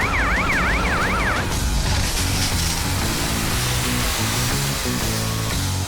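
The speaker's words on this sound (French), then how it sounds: "Pelle, monte voir si les pompiers arrivent." Cartoon fire engine siren wailing in a rapid two-tone sweep, loud and close, cutting off abruptly after about a second and a half and giving way to engine rumble and scattered clattering.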